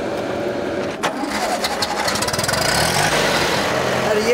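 A tractor engine runs steadily throughout, driven by someone who has never driven one before, with a broad rumbling mechanical drone that grows slightly louder toward the end under wind-like noise.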